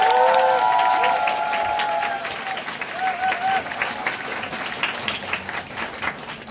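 A business-presentation audience applauds a speaker being welcomed, a loud, sustained roar of many hands clapping that eases slightly midway, with a voice speaking over it at the start.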